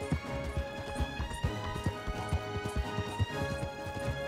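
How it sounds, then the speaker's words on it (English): Horse hooves gallop in the video game Red Dead Redemption 2, a steady rhythmic clip-clop close by with game music underneath and no talking. "Gotta match perfect gallops."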